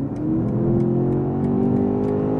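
A 2025 BMW X6 M Competition accelerates hard on a highway in efficient mode, its engine holding a steady, loud, rising drone heard from inside the cabin with no talk.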